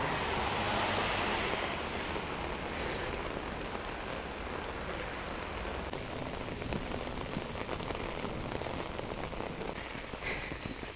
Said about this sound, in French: Et là, je me suis dit, vas-y, il pleut trop.